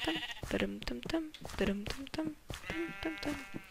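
Sheep in a video game bleat repeatedly in quick, wavering cries, several overlapping close together at moderate loudness.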